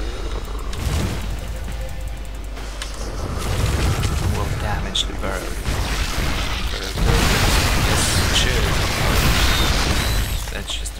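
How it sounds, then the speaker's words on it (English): Baneling explosions in StarCraft 2: Heart of the Swarm erupt as bursts of booming, crackling blasts within dense battle noise, while a voice talks over much of the action. "Baneling explosions."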